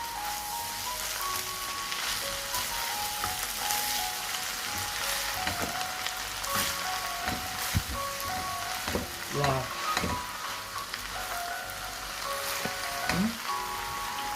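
Noodles and chicken are stir-fried with vegetables in a pan, a steady close sizzle broken by repeated scraping and tossing clatters of the utensil, with no voices.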